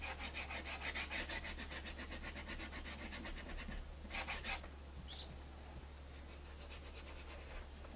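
A large dry brush loaded with plantation pine paint scrubs back and forth on a wooden piece during decorative tole painting, rhythmic rasping strokes close up, quieter after a pause midway, over a steady low hum.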